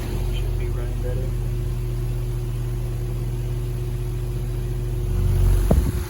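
A vintage Fresh'nd Aire floor fan, a 30-watt unit with bearings still breaking in, runs with a steady low hum and whir that grows slightly louder near the end before a brief knock.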